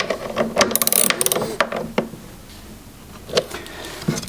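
A ratchet tightens an M8 bolt on a Lotus Elise radiator, rapid clicking bursts up close, louder at the start and then in short spaced runs with brief pauses between.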